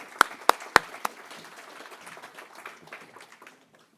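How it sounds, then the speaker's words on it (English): Audience applause for volunteers at a family information night: a few sharp, close claps ring out first, then scattered clapping from the crowd swells briefly and fades to quiet. "Round of applause for our volunteers."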